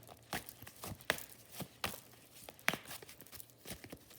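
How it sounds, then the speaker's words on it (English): Tarot cards being shuffled by hand: soft, faint riffling and papery crinkles in a continuous low rustle, with a few slightly sharper snaps standing out. "Shuffling a lot."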